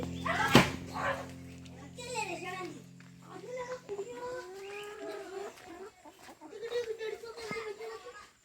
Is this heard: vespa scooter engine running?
no